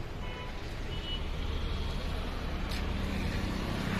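Car engine idling steadily with a test pipe fitted to the exhaust silencer during a roadside pollution emission check, a continuous broadband rumble close by.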